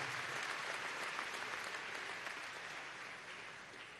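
Crowd applause at a PSUV regional team swearing-in event in Venezuela, a continuous dense roar of many hands clapping, steady and moderately distant throughout.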